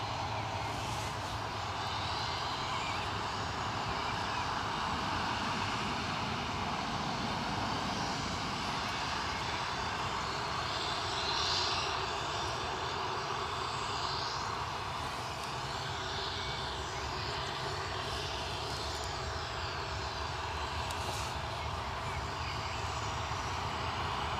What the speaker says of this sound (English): So the Ryanair you were looking at, off to Fuerteventura.